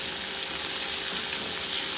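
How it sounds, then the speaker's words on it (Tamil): Dried fish (karuvadu) frying in a pan gives a steady, close, even hiss of sizzling oil with no talking. "இதை ரொம்ப நேரம் இல்லை, டக்குன்னு இதை ஃப்ரை பண்ணி எடுத்துக்கணும்"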